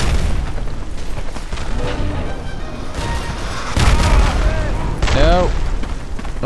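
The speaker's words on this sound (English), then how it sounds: "I love my mortar fire." Mortar shells exploding in the First World War shooter Verdun, heavy booms and rumbling blasts rolling one after another over dense battlefield noise.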